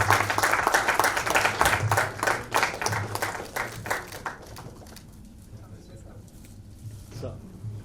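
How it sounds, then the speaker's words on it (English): Guests at a book launch event give a round of clapping that starts strong and thins out over several seconds, with a voice speaking over it as the applause dies down. "You need to give him a bigger round of applause."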